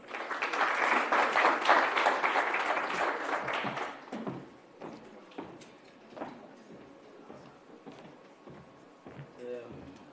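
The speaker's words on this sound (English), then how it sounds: "A round of applause, please." Steady applause from a conference audience in a hall fills the first few seconds, then thins into scattered claps that fade out under a quiet room.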